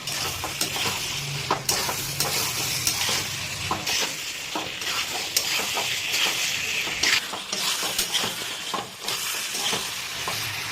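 Chopped desi tomatoes fry in oil with a katla fish head, a steady sizzle broken by frequent sharp scrapes and clinks of a spatula stirring the pan, close and loud throughout.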